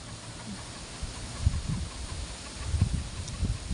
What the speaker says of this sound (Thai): เสียงลมอยู่บนเขาจ้า